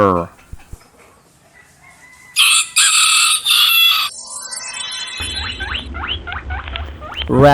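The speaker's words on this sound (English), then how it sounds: "rooster," A farmyard rooster crows loudly in one long, strained cock-a-doodle-doo, followed by softer clucking and chirping calls.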